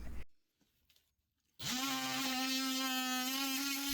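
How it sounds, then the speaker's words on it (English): An oscillating multi-tool cutting into a block of wood beside an RV water tank: after a short quiet pause a loud, steady buzzing whine starts abruptly and holds for over two seconds. "Now I can use the oscillating tool and I can cut the wood without worried about cutting the tank."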